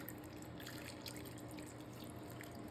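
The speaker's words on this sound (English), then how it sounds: "This is a 32-ounce, 1-quart container of milk, and we're gonna add the whole thing in here." Milk poured from a one-quart container over pasta and Velveeta in a pot, a soft continuous liquid trickle and gurgle, quiet and steady throughout.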